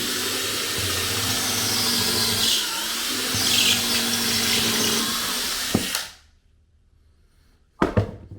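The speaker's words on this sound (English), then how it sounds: "We'll drill a bit." A power drill runs steadily for several seconds, then cuts off into near silence before a brief clatter at the end.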